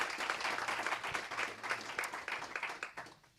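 Audience applause for a conference panel on the EU livestock sector, a dense burst of clapping that holds steady and then thins and fades out over a few seconds.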